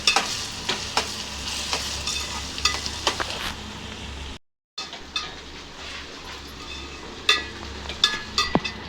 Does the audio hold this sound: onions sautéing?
yes